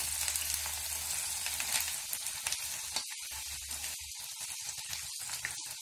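Onion frying in a pan with a steady, dense crackling sizzle, close and fairly loud, with brief dips and small pops toward the end; no talking.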